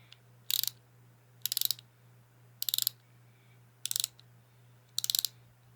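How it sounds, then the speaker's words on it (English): A fine-tooth ratchet from a Pittsburgh pass-through SAE and metric socket set clicks in five quick bursts about a second apart, each a fast, crisp run of ticks, close and clear over a low steady hum with no talking. "Let's hear the fine-tooth ratchet."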